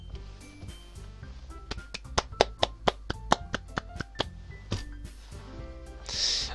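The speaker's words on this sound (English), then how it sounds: "Saroy finishes and we applaud." A few people clap in a sparse, uneven patter of distinct hand claps, fairly close and moderate in volume, within the video game Doki Doki Literature Club; a short burst of noise follows at the end.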